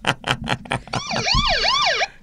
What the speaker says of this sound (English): Just get the siren on as loud as you can.